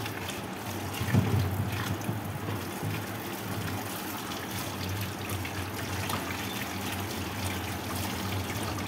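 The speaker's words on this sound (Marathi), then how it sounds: "छान मस्त पद्धतीने धुवून घेणार आहे टमाटे" Tomatoes are washed under running water as a steady, moderately loud stream splashes and trickles without a break, with faint handling sounds.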